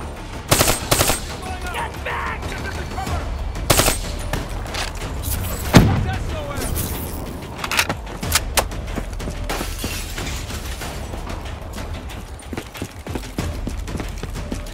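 Bursts of automatic gunfire and sharp impacts in the Call of Duty: Black Ops III campaign, irregular and loud across the scene, with a voice talking intermittently.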